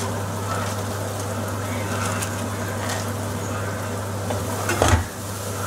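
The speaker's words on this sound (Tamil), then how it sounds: "இந்த வெங்காயம், தக்காளி, இந்த மணத்தக்காளி இதெல்லாம் நல்லா வதங்கிடணும்." Onion, tomato and black nightshade sauté in a pan for Tamil vatha kuzhambu, a steady close sizzle with occasional stirring scrapes and a brief clatter near the end.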